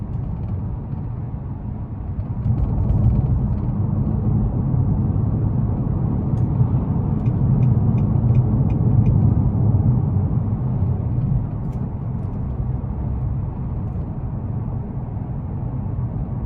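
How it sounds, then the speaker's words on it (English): A 2021 Nissan Maxima SR with a 3.5 V6 gives a steady, low exhaust drone heard from inside the car on a night drive, even and continuous with faint mechanical whirring and no talking. "I just love the exhaust note."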